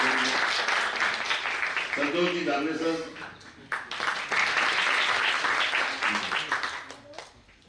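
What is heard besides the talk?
audience applause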